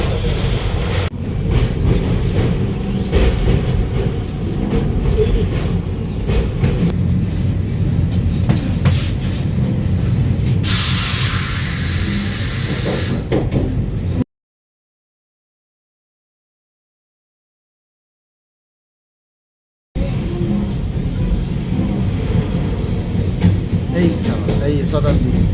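A Vande Bharat Express train crosses the Farakka bridge, heard from onboard as a steady rumble with rhythmic wheel clatter and squealing, a burst of hiss midway, a stretch of total silence, then the ride resumes.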